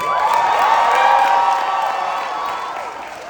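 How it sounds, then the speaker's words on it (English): A large crowd at a graduation ceremony applauds and cheers loudly, with whoops rising over steady clapping that gradually fades. "Let's hear it for them."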